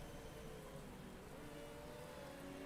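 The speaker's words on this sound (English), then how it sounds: "The rain's coming back down again." Steady rain falling on a race track in a Formula 1 racing game, a constant broadband hiss with a low engine-like drone beneath, continuous and even throughout.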